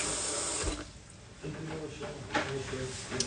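Water runs from a kitchen tap during dishwashing, a steady broadband rush with clinks and shifts in flow, heard fairly close under occasional background voices.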